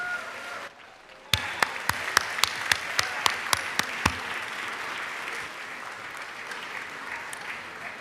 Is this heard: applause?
yes